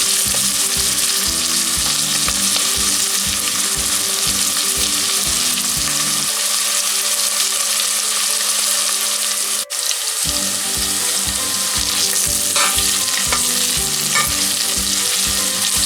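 Onions sauté toward golden brown in a pan for chicken gravy, a loud, dense sizzle with rhythmic stirring strokes that pause briefly midway before resuming, and no speech.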